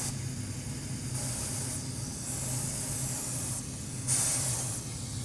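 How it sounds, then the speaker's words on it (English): Short hissing bursts of brake parts cleaner spray, three or four in a row, sharp and close, with quiet pauses between, on a Toyota Corolla front brake caliper. "use some brake parts cleaner and spray the area that has brake fluid on it"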